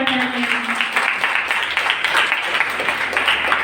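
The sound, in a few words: audience applause for quiz winners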